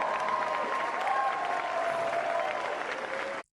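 Steady audience applause from a large crowd at a comedy performance, dense and continuous at moderate level before cutting off abruptly.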